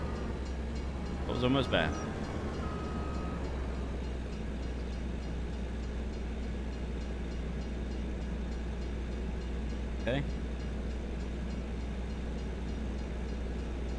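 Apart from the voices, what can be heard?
train passing in Farming Simulator 25 video game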